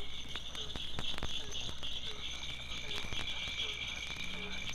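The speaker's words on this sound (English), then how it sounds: "Chorus of cricket frogs, punctuated by the bass of a bullfrog, and joined also by a southern toad, and way off in the distance, a barking frog." Swamp chorus of cricket frogs with clicking calls and regular sharp pulses, a steady high trill beneath, the low bass of a bullfrog, a southern toad joining, and a barking frog far off.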